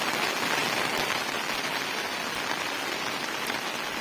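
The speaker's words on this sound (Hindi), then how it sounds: "अभी भी बारिश जो है वो थमने का नाम नहीं ले रही है" Continuous heavy rain pours down in Uttarakhand during flooding, a dense, steady hiss of drops hitting surfaces with no voices.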